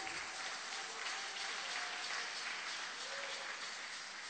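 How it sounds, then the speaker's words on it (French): A church congregation applauding during a French-language service, a continuous far-off rush of many hands clapping at a steady level and heard fairly quietly, with faint voices rising briefly from the crowd. "On peut applaudir la parole de Dieu."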